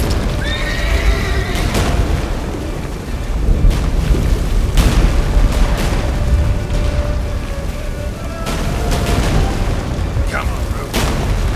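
Roach the horse in The Witcher 3 whinnies and gallops amid booming battle noise and shouting voices, with repeated neighs and rhythmic hoof thuds throughout.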